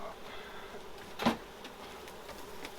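Honeybees buzzing around an opened hive during an inspection, a faint continuous hum with a single louder bee passing close by midway, set against quiet background noise.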